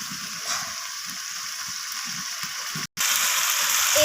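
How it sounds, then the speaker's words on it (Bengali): Chicken with spices sautéing in a pan, a steady close sizzle and fry hiss with soft stirring scrapes, briefly cut off for a moment before resuming louder. "তো সব কিছু মশলা এইভাবে কষাতে থাকবো যত বেশি চিকেনটা কষানো হবে চিকেনের স্বাদ কিন্তু তত বেশি ভালো আসবে"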